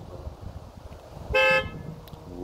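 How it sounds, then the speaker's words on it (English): A Tesla's horn honks once from the phone app, a short loud blare of about a quarter second over quiet outdoor background rumble. "You can honk the horn."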